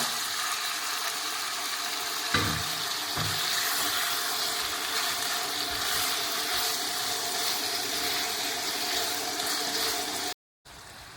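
Chicken frying in a pan for a chicken stew produces a dense, even hiss that holds steady throughout, with a couple of faint knocks from stirring early on.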